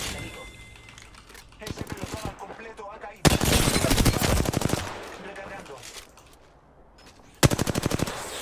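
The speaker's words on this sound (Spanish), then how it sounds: "¡Están disparando!" Rapid automatic gunfire from the game Apex Legends rattles out in several loud bursts separated by quieter gaps, with a long sustained volley in the middle and another sharp burst near the end.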